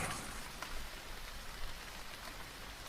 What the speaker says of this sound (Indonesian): Suasana yang dingin, sejuk suara rintik hujan